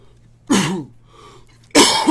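Two harsh coughs close up, separated by a short pause with a faint breath between them.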